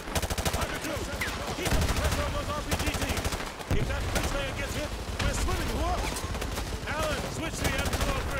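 Dense, rapid automatic gunfire from Call of Duty: MW2 Remastered, set in Afghanistan, rattles in sustained bursts with brief pauses, loud and close, under a busy game soundscape.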